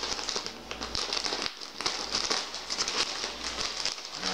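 Plastic packaging around an Adidas Habs Hockey Fights Cancer jersey being opened, giving dense bursts of crinkling and crackling close by with brief pauses and no talk.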